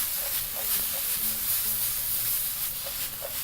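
Onions for wet fry matumbo sizzle and hiss steadily in a hot pan, with faint soft taps of tossing, close and fairly quiet throughout.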